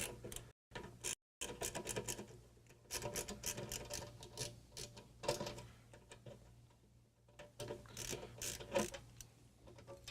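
Flathead screws being worked loose by hand with a screwdriver from the crinkle-painted case of a vintage Data General microNOVA computer; close, steady scraping and rasping with small clicks and brief pauses, no talking.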